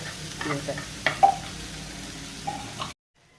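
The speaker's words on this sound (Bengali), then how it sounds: "পেঁয়াজ রসুন কাঁচা ঝাল এগুলো ভালো করে ভেজে নেব" Onion, garlic and green chillies frying in a pan sizzle steadily, broken by a few sharp clinks and scrapes of stirring, then cut off abruptly near the end.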